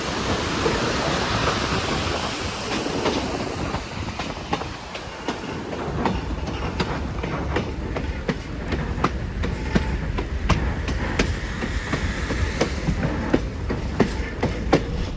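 A train running from Puno to Cusco in Peru crosses a long bridge over the Vilcanota River near Sicuani, with steady loud rolling rumble and rhythmic wheel clicks carrying on throughout, no voices.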